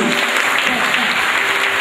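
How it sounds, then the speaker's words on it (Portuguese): A church congregation claps together, a loud, continuous wash of many hands that stays even from start to finish. "Você pode dar uma salva de palmas para Jesus?"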